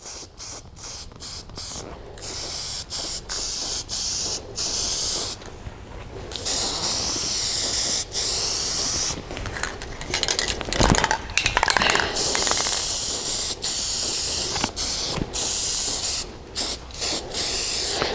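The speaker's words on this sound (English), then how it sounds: "this dye material or fancy paint, whatever you want to call it, that I'm spraying on here" Aerosol dye paint sprays onto an MR2 Sparco steering wheel in repeated hissing bursts of varying length, some brief and some sustained for a few seconds, close to the mic and separated by short pauses.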